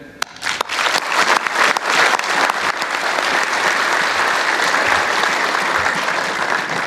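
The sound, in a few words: applause at military academy commissioning ceremony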